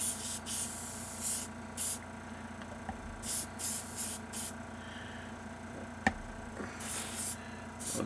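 Short bursts of an airbrush spraying paint onto a model figure hiss in and out at close range, several separate puffs against a quiet room hum.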